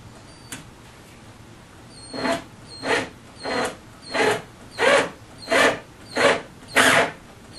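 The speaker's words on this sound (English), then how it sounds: "what we need to do is run the top and bottom screws in" A power drill drives screws into the back cleats of a MAME arcade cabinet, giving eight short, evenly spaced whirring bursts close by after a brief initial tap.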